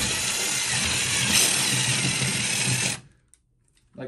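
Power drill enlarging a hole in a wall to fit a toggle bolt for a loose towel bar, a steady loud whirring drone for about three seconds that stops abruptly, followed by quiet handling clicks.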